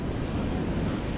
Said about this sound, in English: You can probably still hear it. It's still bloody windy.